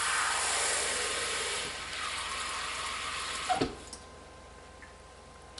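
Cool tap water runs from a kitchen faucet into a measuring cup for bread dough, a steady hiss and splash that thins out halfway, followed by a couple of light knocks and clinks.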